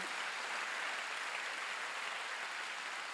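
Steady, dense clapping from a church congregation during a worship service, sustained evenly throughout with no voices rising above it.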